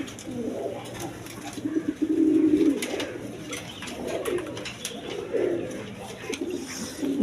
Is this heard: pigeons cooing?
yes